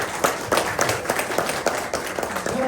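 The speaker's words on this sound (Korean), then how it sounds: "자, 한번 박수 한번 주시죠." A seminar audience at a book launch event gives a moderate round of applause, a steady wash of many hands clapping at medium distance, somewhat quiet and continuous.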